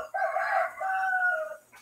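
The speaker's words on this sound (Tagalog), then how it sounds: "sumasagot yung manok." A rooster crows once, loud and close, a drawn-out two-part call lasting over a second with no other sounds around it.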